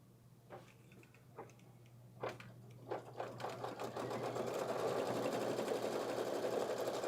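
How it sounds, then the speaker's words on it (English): A sewing machine stitches an IQ Designer pouch design, starting with a few isolated clicks, then speeding into a loud, continuous rapid stitching rhythm close by with a steady background hum. "I'm just going to sew that stitch. So I'll just press start and let it do its thing."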